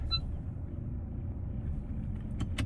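A car engine idles low and steady while being re-parked, a constant muffled rumble from inside the vehicle with a short beep near the start and a couple of faint clicks at the end.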